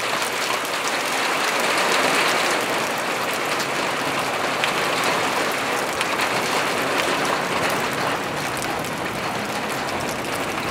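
Heavy summer downpour in Tomsk, a dense, steady roar of rain pounding surfaces, loud and continuous throughout with no speech.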